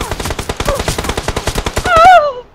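Fast automatic gunfire in the mobile game BGMI, a loud rapid string of close shots that ends in a ringing, wavering tone and then cuts off.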